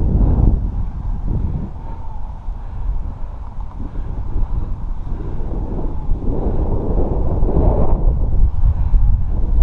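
Wind at a kite flying spot during a first flight of a Cross Kites Sonic 7.5m kite: steady low rumbling gusts buffeting the microphone, loud and continuous, swelling and easing.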